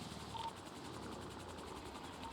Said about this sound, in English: So we're going to go ahead and park the helicopter in the garage in the hangar.